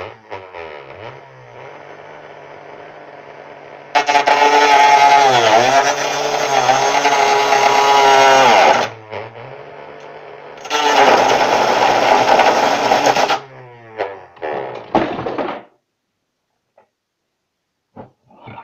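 A power tool fitted with a cutting disc grinds into a battery holder in two long, loud, whining bursts separated by a lower idle hum, ending in brief spin-downs and then silence.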